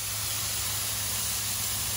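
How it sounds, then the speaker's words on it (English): Steak, zucchini, squash and potatoes sizzle steadily in beef fat in a pan, a continuous close, broadband hiss with no talk. "Listen to that sizzle."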